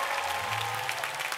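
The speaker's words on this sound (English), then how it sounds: "Give him another big round of applause for Pastor Otis." A church audience applauds for a pastor during a comedy performance at Trinity United Church of Christ, dense steady clapping from a large crowd, loud and continuous throughout, with no talk over it.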